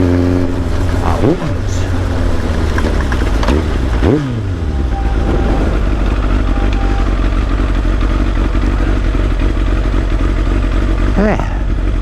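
A Kawasaki ZX7R rider's old sportbike pulls through the gears with a loud, close, steady exhaust roar, with several quick rising blips and shifts breaking up the continuous engine drone.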